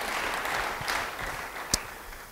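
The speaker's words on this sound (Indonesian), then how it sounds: "Yang percaya beri tepuk tangan bagi dia." Church congregation clapping in applause during a sermon, a steady broadband patter of many hands filling the room, with a single sharper clap standing out near the end.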